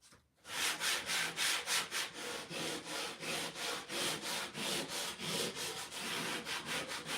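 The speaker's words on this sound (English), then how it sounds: "You don't want to use a rough sandpaper or you'll cause scratch marks and it won't look authentic." Fine sandpaper rubs back and forth across a painted wooden sign to give it an aged, distressed look, a close, steady run of rhythmic rasping strokes about three per second, with no voices.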